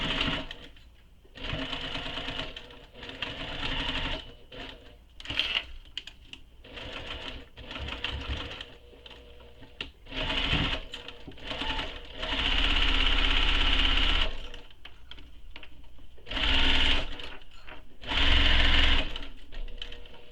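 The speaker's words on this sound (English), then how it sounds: "So we're going to stitch up and then all the way across." A sewing machine stitches a tote bag's fabric in several loud, close bursts of rapid whirring, separated by short pauses.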